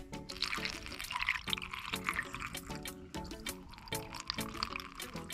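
Tank Fresh treatment is poured in a steady trickling stream into the fresh water system of a Salem Cruise Lite 171 RBXL RV, with faint gurgling and a few soft knocks against plastic nearby.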